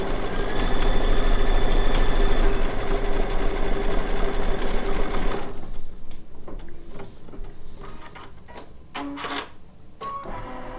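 An embroidery machine stitches down needle-turn appliqué circles in the hoop, whirring steadily and loudly for about five seconds before stopping, followed by quieter clicks and handling noises.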